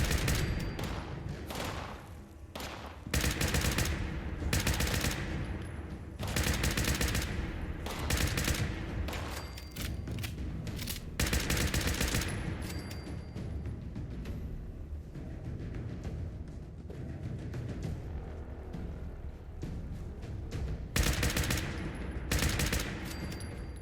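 Sustained automatic rifle fire in Fallout 76, loud repeated bursts of rapid shots with brief pauses between them, filling the stretch with dense gunfire and no talking.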